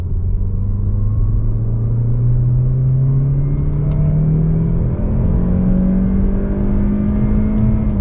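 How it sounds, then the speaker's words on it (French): A 2020 Mazda CX-30 with the 180 hp Skyactiv-X engine and manual gearbox, heard from inside as a loud, steady engine drone that climbs gradually in pitch toward 6800 rpm, continuous and close with no talking. "Il monte à 6800 tours."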